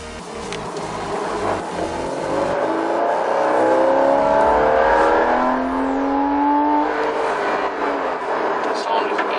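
A Porsche Cayman sports car revving as it accelerates while driving, engine pitch climbing in sweeping rises and falls, loud and close, with a voice talking over it.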